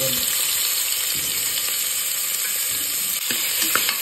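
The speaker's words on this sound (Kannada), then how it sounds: "ನಾನೀಗ ಈ 2 ಈರುಳ್ಳಿ ಏನು ಹೆಚ್ಚಿಟ್ಕೊಂಡಿದ್ದೆ ಇದನ್ನು ಹುರ್ಕೊಳ್ತೀನಿ" Two chopped onions frying in oil inside a cooker, a dense continuous sizzle with a few faint stirring scrapes, close and loud with no talking.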